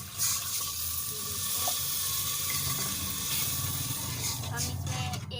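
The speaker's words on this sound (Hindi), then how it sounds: "हम इसमें 1 गिलास पानी का जो है वो और डाल देते हैं।" Water pours into a pan of sweet daliya cooking on a low flame, a continuous splashing wash with a faint sizzle, heard at close range.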